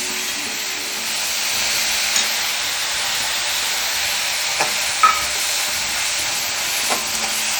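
Chopped ginger and onion frying in a pan for jackfruit bonda, a steady soft sizzle and hiss with a few light stirring knocks.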